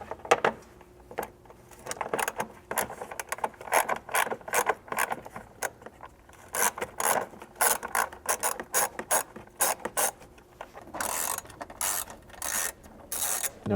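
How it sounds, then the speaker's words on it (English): Ratchet with a 10mm socket turning fasteners inside the wheel well of a Jeep Wrangler JK to remove the front fender, giving rapid close clicking bursts broken by short pauses and repositioning. "using a 10mm socket, we can come up in here inside the wheel well and remove the 6 fasteners holding the rest of that fender on."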